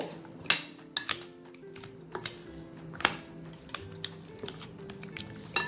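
Chicken is mixed with salt in a bowl for an Afghani chicken gravy, with scattered close clinks and light scraping of utensil against bowl in an otherwise quiet kitchen.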